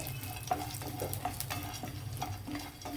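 Almonds frying in ghee in a pan, a soft sizzle with repeated scraping and stirring strokes of a spoon, close and quiet with no talking.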